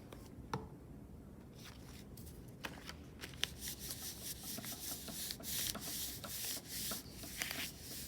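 Paper snowflakes being rubbed down by hand onto a frame, a soft continuous scratchy rubbing and brushing with small taps, close and fairly quiet, with no talking.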